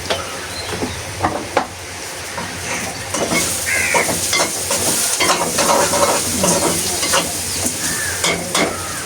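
Turmeric powder being stirred into a sautéed mixture in a hot pan, a steady close sizzle and frying hiss with repeated scraping strokes of the spoon, no talking.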